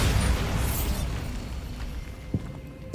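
Bombarda explosion spell cast in the Hogwarts Legacy video game: a loud, rumbling blast bursts at the start and decays into a lingering roar, with a small pop near the end and no talking.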